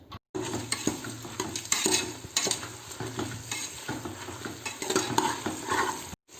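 Whole spices and sliced green chilies frying in a pot, a steady crackling sizzle broken by repeated scraping stirs of a spoon against the metal, close and busy with no talk.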